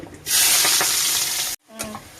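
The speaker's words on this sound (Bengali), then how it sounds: "কাটা পেঁয়াজটা দিয়ে দিচ্ছি।" Chopped onion dropped into hot oil with cumin bursts into a loud, steady sizzle with stirring, then cuts off abruptly before a brief quieter clatter.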